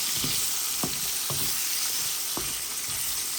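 Onion and potato frying in a pan give off a steady, dense sizzle, with a few soft knocks from stirring scattered through it.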